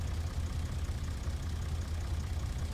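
Engine of a tipped-over tractor in Farming Simulator 17 idling with a steady low rumble, faint and unchanging throughout.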